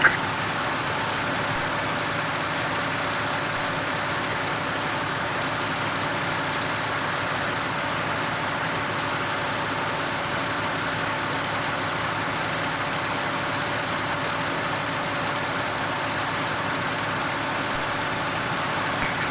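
A fire truck engine idles at a structure fire in Irvine, California, holding a steady, loud, low rumble with a constant hum throughout and no voices.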